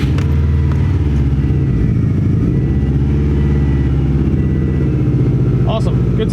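A 2007 Subaru STI with a front-mounted intercooler and blow-off valve starts up. The engine catches and runs with a loud, rough, throbbing idle close to the listener, steady throughout, with faint voices in the background.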